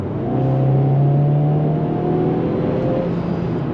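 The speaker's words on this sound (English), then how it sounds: "I'm going to slow down, then I'll mash the throttle, see how the roll on acceleration is in this thing." A 2022 Hyundai Veloster N with an 8-speed automatic kicking down under full throttle, a steady droning engine note rising gradually in pitch, heard from inside the cabin with no talking.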